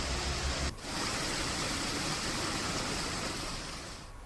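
Rushing water pouring down Aravalli waterfalls after monsoon rain, a dense continuous roar close by, briefly interrupted near the start and easing slightly at the end.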